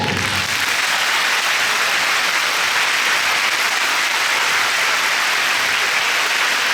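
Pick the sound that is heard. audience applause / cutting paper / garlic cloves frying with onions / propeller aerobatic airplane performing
audience applause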